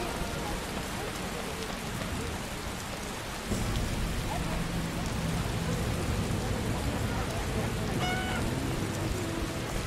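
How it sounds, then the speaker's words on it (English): Rain and a thunderstorm in The Witcher Enhanced Edition video game, a constant hiss of heavy rainfall on surfaces with a low rumble of thunder swelling partway through, steady and enveloping for the whole stretch. "Storm's coming."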